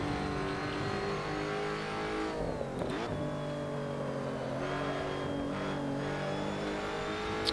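A Ginetta GT4 race car in the Assetto Corsa racing game, its engine droning steadily with a rising and falling pitch as it revs and shifts, fairly loud and continuous with no talk.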